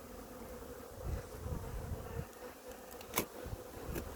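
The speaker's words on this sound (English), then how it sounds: "Oh, there's a bee." A solitary bee buzzes steadily near its nest in a hive box, a close, continuous drone with a few soft knocks and handling noises, with no voices.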